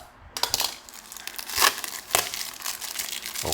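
A tightly packed parcel being unwrapped, with steady crinkling and crumpling of packing material and a few louder tearing bursts, close and continuous throughout.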